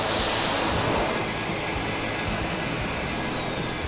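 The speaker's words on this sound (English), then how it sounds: "we're watching this plane approach" A plane carrying rescued island dogs approaches to land, its jet engine roar loud and steady with a broad rushing whine, no voices over it.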